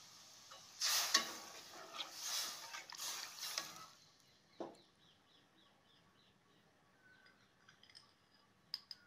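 A paneer dish in a kadhai being stirred as magaj paste is mixed in, producing a few seconds of close scraping, sizzling spoon strokes followed by quieter faint clinks.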